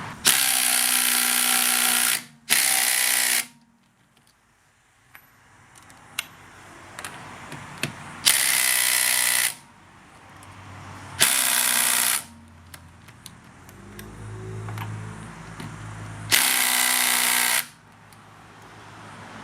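Makita 40V TD002G impact driver on its bolt setting hammering at a stubborn bolt in several loud bursts of a few seconds each, separated by quiet pauses.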